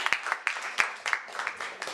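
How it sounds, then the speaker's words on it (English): Small audience at a talk on Yoruba culture giving a short round of applause, sparse distinct claps in an uneven rhythm, close and fairly light. "Round of applause for her."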